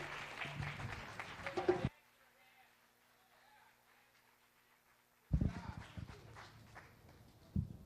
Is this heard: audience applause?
yes